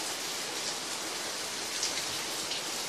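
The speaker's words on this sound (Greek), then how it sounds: "Απαλή η βροχή είναι." Gentle rain falls steadily in Milia, Messinian Mani, making a soft, even patter of close droplets with no speech.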